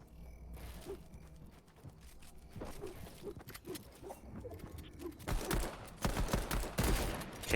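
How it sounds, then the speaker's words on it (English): Assault rifle fire in a Fortnite match as players attack the Saints' fort base: scattered distant pops at first, building into loud, dense bursts near the end. "some assault rifle shots going to be coming on to the Saints fort"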